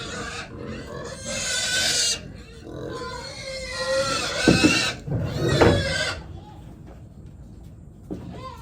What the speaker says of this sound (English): I like to feed the pigs first because, as you can hear, they're loud.